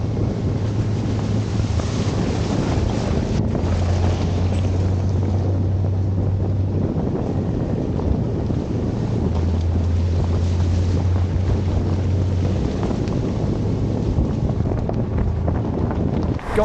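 A vehicle fording a river on a Costa Rica trip, heard as a loud, steady rush of churning water and wind buffeting the microphone throughout, with no voices.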